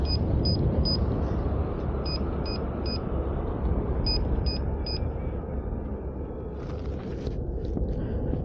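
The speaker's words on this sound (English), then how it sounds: "low battery beeps." Low-battery alert from a Begode ET Max electric unicycle while riding: three groups of three short, clear, high beeps over steady loud wind and road rumble.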